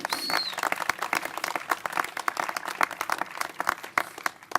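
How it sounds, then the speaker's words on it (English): Outdoor community applause at a Baltimore neighborhood housing demolition event on East Lanvale Street, a crowd clapping with distinct sharp individual claps standing out, moderately close and fairly steady, with a brief whistle early on. "give a special round of applause for all of the Oliver residents who are working so hard"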